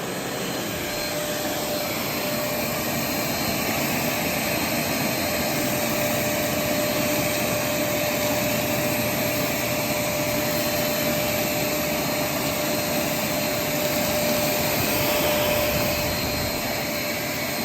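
A Riccar R25D upright vacuum cleaner runs with its brush roll on low speed, a loud, steady motor whine and airflow roar holding constant throughout with no pauses, close to the listener.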